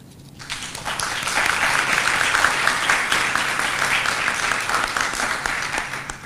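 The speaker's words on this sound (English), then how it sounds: "Graduates, please, let's give your family and friends a big applause." A graduation ceremony audience breaks into applause, a dense wall of clapping that swells quickly after a quiet opening and holds steady for several seconds.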